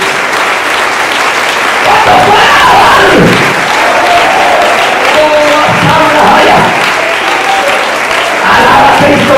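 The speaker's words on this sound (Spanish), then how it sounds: "Den un aplauso fuerte a nuestro Dios" A church congregation bursting into loud, sustained applause and cheering during a sermon, dense clapping filling the space throughout, with some voices shouting over it.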